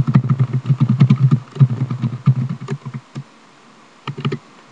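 Fingers type text on a computer keyboard in a web editor, producing quick bursts of close, clattering keystrokes, a short pause, then a final brief flurry.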